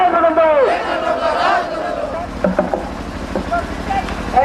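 Crowd of protesters at a political rally chanting slogans together in loud rhythmic bursts, with a shouting lead voice over the group and scattered claps and knocks as the chanting dies down.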